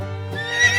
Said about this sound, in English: Horses love to gallop in the fields, but they come back and rest in a stable.